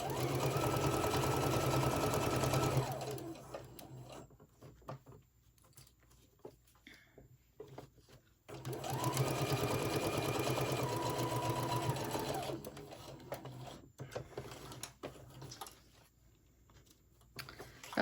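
A sewing machine runs in two steady bursts of rapid stitching, each a few seconds long, separated by quieter handling noises.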